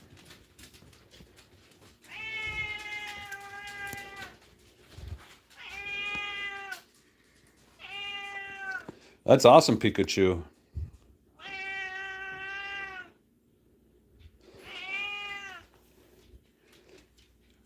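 A cat meows repeatedly, several drawn-out calls spaced a second or two apart, with a person briefly speaking partway through.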